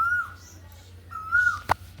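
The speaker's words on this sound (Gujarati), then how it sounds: "મસ્ત મજાની કોયલ બોલે છે" An Asian koel calls in a village near a temple: two rising whistled notes about a second apart, clear and fairly close over a low steady background hum, ending with a brief sharp knock.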